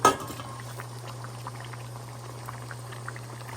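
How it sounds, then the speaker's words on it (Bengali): A pot of meat simmering on the stove with tomatoes, green chillies, pepper and garlic added: one sharp clink and splash at the start, then a steady low bubbling and faint hiss. "এখন আমি এতে দিয়ে দিব টমেটো, কাঁচামরিচ, গোলমরিচ আর রসুনের কোয়াগুলি"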